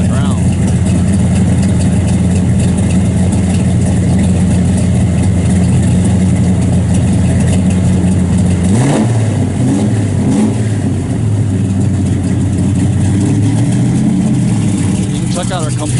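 Rumbling V8 of a 1968 Chevrolet Chevelle SS 396 with four-speed and 3-inch Flowmaster exhaust, idling loud and steady, then blipped in a few quick revs around the middle and again near the end.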